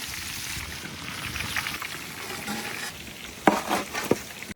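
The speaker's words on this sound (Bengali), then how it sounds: "এরপর এগুলোকে এমনভাবে ভেজে নেব যাতে লাল হয়ে যায়" Onion slices fry in hot oil with a continuous crackling sizzle, close up, and a few louder bursts of spattering near the end.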